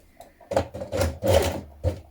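A sewing machine stitches a dress seam and tape in place in several short bursts of whirring stitching, close and clear, with brief pauses between runs.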